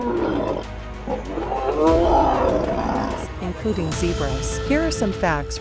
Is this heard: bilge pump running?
no